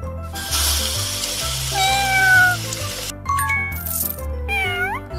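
A cartoon cat meows repeatedly in a children's rescue game, with bright chiming sound effects and playful music around the plaintive mews, all clear and close.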